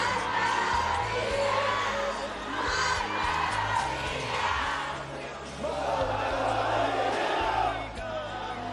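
A large crowd in Plaza San Francisco, Bolivia, chants together at a national rally for sea access, a loud, continuous mass of voices rising and falling in unison with cheering swells throughout.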